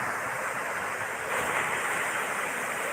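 Large ocean waves rush in a broad, steady roar, washing onto the shore at Kanyakumari, swelling slightly midway, with no voices.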